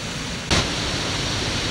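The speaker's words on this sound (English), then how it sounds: "Lovely river." A river rushes in a broad, steady roar of water, loud and continuous, with a brief burst of extra splash near the start and no voices.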